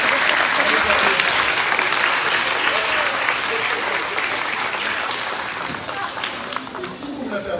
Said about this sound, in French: Et on les applaudit, les jeunes.